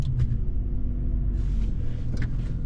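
A Jaguar XJ6 with about 100,000 miles on it drives along, its engine and road noise forming a steady low rumble heard from inside the car, with a few faint higher rattles and hisses.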